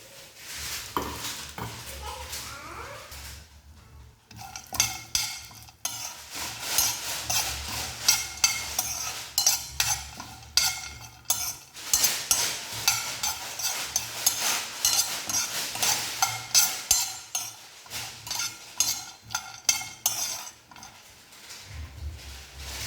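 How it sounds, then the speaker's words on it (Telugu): Pistachios tossed in a pan with a spatula for homemade dry fruit laddu, giving a busy run of light scraping, rattling and tapping strokes that stay close and fairly loud throughout, with a short pause near the start. "అలానే ఇప్పుడు పిస్తా పప్పు కూడా తీసుకొని ఫ్రై చేసుకుందాం."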